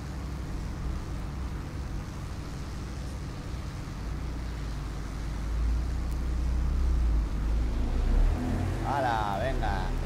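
A motorcycle passes along the street outside, its low engine rumble swelling and then easing away beneath a steady droning hum from a flight game.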